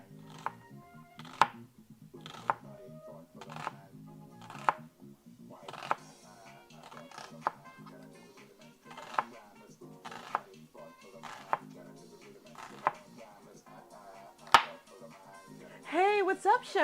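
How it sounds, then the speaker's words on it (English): Knife chopping a shallot on a cutting board, about a dozen sharp, evenly spaced cuts at a steady rhythm, close and fairly quiet over faint background music. "we're gonna cut up the other shallot"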